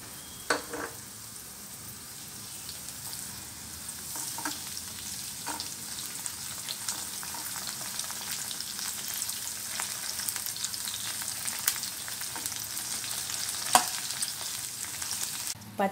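Green chillies and mint sizzle steadily in a hot pan for a long stretch, with intermittent scraping clicks as a spoon stirs them.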